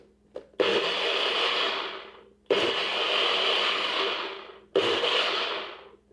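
A food processor pulses cilantro and green onion for a spicy sesame chili aioli, three loud whirring bursts of a few seconds each separated by short pauses.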